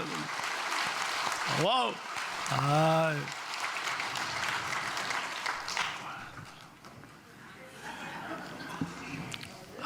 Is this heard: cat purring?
no